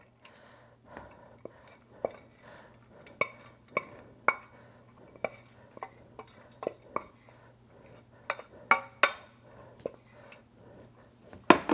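Spaghetti being stirred into sauce in a pan, with a utensil scraping and clinking against the metal in irregular taps and scrapes, fairly close and fairly quiet over a low steady hum.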